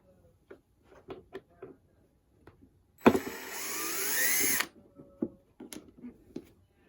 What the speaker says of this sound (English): you've got 1, 2, 3, it's like 4, 5, 6 screws that you want to undo here